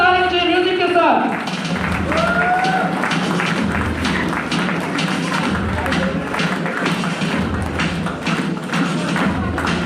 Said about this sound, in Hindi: जोरदार तालियों से म्यूजिक के साथ